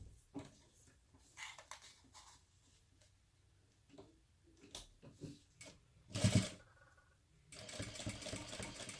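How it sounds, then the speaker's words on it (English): Sewing machine top stitching along the fold of a bag strap, faint stop-start bursts of stitching with a louder run near the end, quiet handling noises between. "And now you will top stitch"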